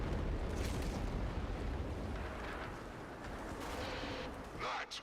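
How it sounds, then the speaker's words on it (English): Heavy cannon fire from the Macross cannon in the video game Destiny 2, a dense, loud rumbling barrage of blasts that rolls on for several seconds with a few sharper bursts near the end. "That was the old Macross cannon."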